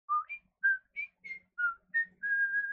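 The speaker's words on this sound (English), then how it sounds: "the build-up is excellent, and the whistling is very, very enjoyable" Bright melodic whistling in a K-pop song, a string of short pitched notes hopping up and down before ending on one long held tone, clean and upfront with nothing else beneath.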